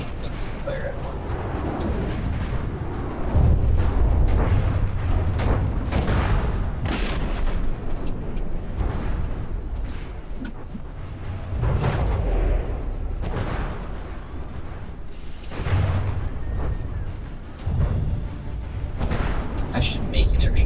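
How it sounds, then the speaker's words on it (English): Several anti-air guns on a video-game airship fire together in repeated heavy booming volleys, deep thuds rolling under continuous game noise and a talking voice. "Is at a nice angle so that all these guns can fire at once."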